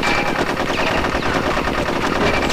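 Rapid, loud automatic gunfire from Conker's Bad Fur Day, a continuous close stream of shots with no talking.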